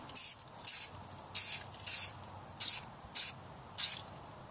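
An aerosol spray can lays light coats of paint over a golf cart repair, sounding as seven short, sharp hissing bursts in a fairly even rhythm with brief quiet gaps between them.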